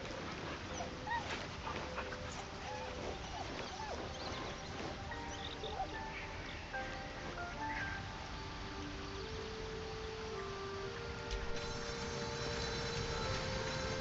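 A puppy in the video game Baldur's Gate 3 whimpers and yips in short scattered bursts over a layered game soundscape of ambient tones and background noise, with no talking.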